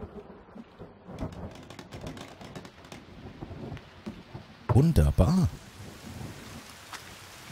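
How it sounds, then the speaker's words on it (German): Rain pours steadily during a thunderstorm in the survival video game The Forest, with a loud crackling thunder burst in the middle and someone speaking briefly over the storm. "Jetzt gewittert es hier gerade so schön."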